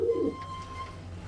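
A single short pigeon coo sounds close at the start, then fades into quiet background hum.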